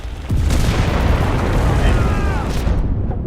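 A heavy explosion booms in the World War II shooter Enlisted. It hits suddenly after a brief pause, then a loud, rumbling blast and roar sustain for several seconds before easing slightly, with possible voice chat mixed in.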